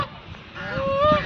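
Ducks calling at a pond give a couple of nasal, honking cries that rise out of low background noise, close and fairly loud.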